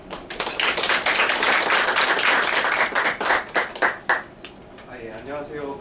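A lecture audience applauds to welcome a university professor to the stage, a steady patter of many hands clapping that swells and then thins out into scattered claps before fading.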